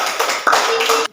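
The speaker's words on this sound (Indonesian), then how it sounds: "untuk kelompok 3 berikan tepuk tangan" A short burst of clapping from a small classroom group for the third presenting team, just over a second of quick, uneven claps with one sharper clap near the middle, close and fairly loud.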